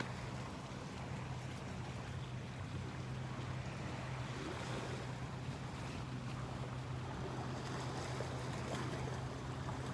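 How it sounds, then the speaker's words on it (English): Ocean waves washing in a steady, continuous rush with wind noise buffeting the microphone and a low drone beneath, faint and even throughout with no voices. "how you can hear the waves."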